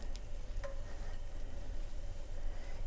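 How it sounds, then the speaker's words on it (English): Miso butter mixture hits a hot pan and sizzles with a faint, steady crackle, interrupted by a few small pops. "So this is our miso butter mixture, and we're just going to put this into our hot pan."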